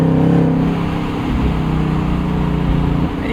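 A 2024 Ford Mustang GT's engine revs loud and close, a sustained throaty roar holding steady before easing off at the end.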